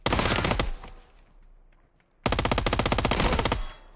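Automatic gunfire from a newly added gun in PUBG, a long rapid burst that stops for about a second and a half and then resumes with another fast, loud, evenly spaced volley, alone with no voices.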